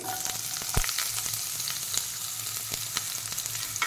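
Chopped onion and spring onion fry in hot oil, giving a continuous close sizzle broken by a few sharp clicks and taps of stirring.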